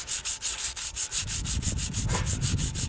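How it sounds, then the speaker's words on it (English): Sandpaper rubbed back and forth over a Honda car valve cover to clean up the raised logo, steady rhythmic scraping strokes about three per second, close and fairly loud with no talking. "I'm just gonna come at it with some sandpaper and try to clean up the"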